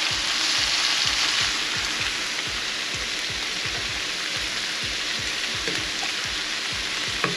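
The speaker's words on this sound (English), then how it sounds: "you put the pepper in and you start frying it first" Steady, loud sizzling of pepper frying in hot oil, with irregular crackles and pops running throughout and no voices.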